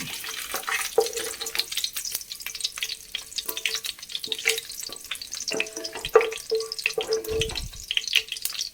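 Onions frying in coconut oil with a spoonful of ghee for fish biryani, giving a busy crackling sizzle. It is broken up by scraping and stirring clicks from a spoon against the pan, and no one speaks over it.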